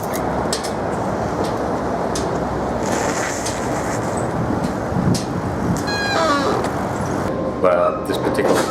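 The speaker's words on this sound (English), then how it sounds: "We're catching a train currently between Rotterdam and Amsterdam." Rumbling interior of a moving train between Rotterdam and Amsterdam, a steady broadband rush with faint squeaks and brief rattles, while people talk quietly nearby throughout.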